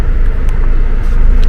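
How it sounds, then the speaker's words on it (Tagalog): Road traffic near the Mall of Asia in the Philippines: a steady, dense low rumble of passing cars, continuous and fairly loud, with faint hiss from tyres and no clear voices. "Traffic dito sa Mall of Asia."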